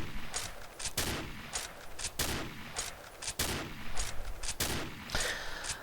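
Hipfire shots from a Tango 51 sniper rifle in Combat Arms. About eight sharp, loud reports ring out at a steady, unhurried pace, each with a short ringing tail and no talk.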